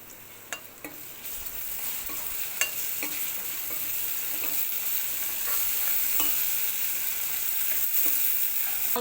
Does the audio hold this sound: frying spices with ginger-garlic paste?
yes